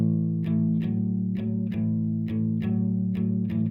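Electric guitar plays a choppy blues shuffle rhythm with a chorus-like shimmer, its chords sustaining and blurring into one another between the strums.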